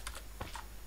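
A computer keyboard clicks as a short command is typed, a few quick close keystrokes within a second over faint background hum.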